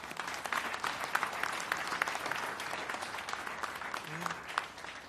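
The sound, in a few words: audience applause for Alex Rins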